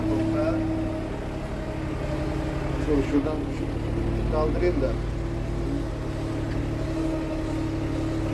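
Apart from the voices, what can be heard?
Erkunt tractor engine running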